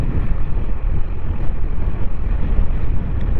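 A strong headwind buffets a two-wheeler riding on the Pudukkottai–Keeranur national highway, giving a loud, continuous roar of wind on the microphone with no pauses and no voice.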